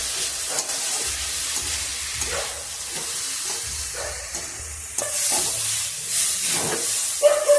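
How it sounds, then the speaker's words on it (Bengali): Lentils are stirred with spices in a hot pan while making sago khichuri, a steady sizzle and hiss with repeated scraping strokes of the spoon, growing louder partway through, no talking. "এবার দিয়ে দেবো ডালটা, দিয়ে একটু মশলার সঙ্গে নেড়ে নেব।"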